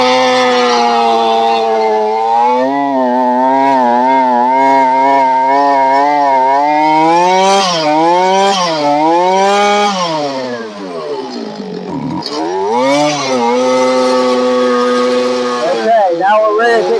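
A small two-stroke engine runs loudly and close, its buzzing whine holding steady then rising and falling as the throttle changes, dipping briefly before revving back up.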